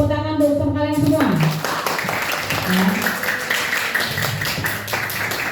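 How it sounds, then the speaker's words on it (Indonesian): Students in a classroom clap after group presentations, a scattered burst of hand claps that starts after a speaking voice and keeps going, uneven and close, with voices still mixed in. "Tepuk tangan untuk kalian semua."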